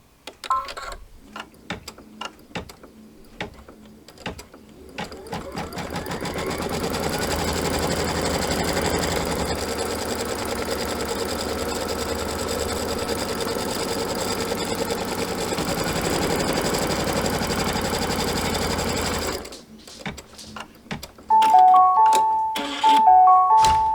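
A sewing machine stitches a pinwheel quilt block held in a hoop, running as a steady mechanical whir for about fourteen seconds between stretches of quieter clicking, with a few electronic beeps at the end.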